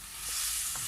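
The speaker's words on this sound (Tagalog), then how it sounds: "Saka po natin ito haluin para mag-combine po lahat" Chicken feet and other ingredients are stirred in a hot pan, a brief, steady sizzle with a soft scrape of the utensil.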